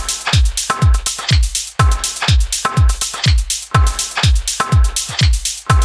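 Percussion pattern from an Elektron Digitakt drum machine, pitched down an octave: a fast looping groove of deep, booming hits with falling pitch tails and clicky transients, loud and steady with no voices.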